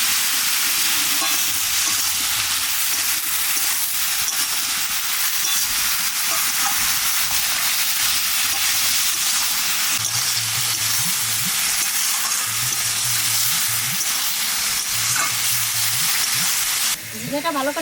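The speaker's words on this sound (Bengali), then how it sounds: "জিরেটা ভালো করে ভেজে নিয়েছি," Cumin seeds fry in a pan for a ridge gourd and fish curry, making a dense, continuous sizzle close by, with soft stirring scrapes and brief clatter woven through and no voices.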